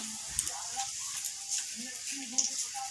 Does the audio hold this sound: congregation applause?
no